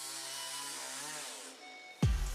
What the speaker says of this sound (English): The chainsaw was diligently cutting through the towering giant cottonwood tree.